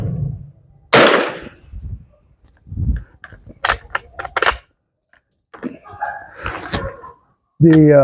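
A WZ48 Polish .22 caliber training rifle fires a single sharp, loud crack near the start, followed by quieter handling clicks and a voice speaking.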